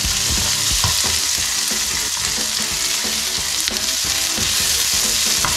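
Onion added to garlic already frying in a pan for Filipino chicken curry, a steady loud sizzle with repeated scraping and stirring clatter throughout.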